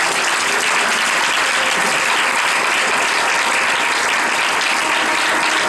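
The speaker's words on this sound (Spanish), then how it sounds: "Le doy un aplauso al Señor." A church congregation claps during a sermon, a loud, continuous wash of applause that stays even and sustained from start to finish.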